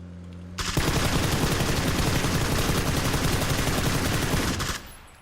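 Rapid automatic gunfire from PUBG: Battlegrounds rattles continuously for about four seconds, loud and close, with no talk over it.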